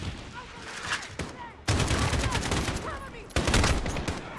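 Machine gun fire in Call of Duty: Modern Warfare, with scattered shots at first, then two long, loud, dense bursts of automatic fire and a short quiet gap between them.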